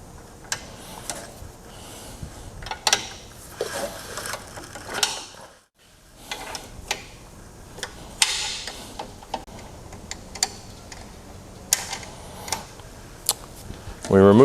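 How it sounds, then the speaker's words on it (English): Clicking ratchet-like turns of a 9/16 wrench loosening the 3/8 bolts at the back of the slide rods on a Norfield Rev Series Magnum butt router, with repeated close metallic ticks and a brief quiet gap midway. "We'll use a 9/16 wrench"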